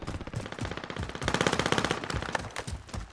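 Rapid gunfire from players shooting in a PS4 video game, dense bursts of shots rattling continuously and fairly loud across the whole stretch.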